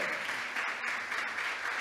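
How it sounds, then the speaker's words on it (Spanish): A church congregation applauds in a steady wash of clapping, fairly faint and distant, with a few brief gaps. "Usted tiene que dar un aplauso a esta gente que ha creído en la cruz de Cristo."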